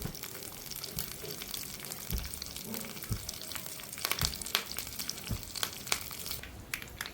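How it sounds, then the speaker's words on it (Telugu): Mustard seeds, cumin, urad dal, curry leaves and dried red chillies fry in hot oil for a tempering, crackling and popping in a steady close-up sizzle with sharp intermittent spits. "తాలింపు బాగా ఫ్రై చేసుకోవాలి."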